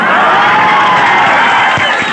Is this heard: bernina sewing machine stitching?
no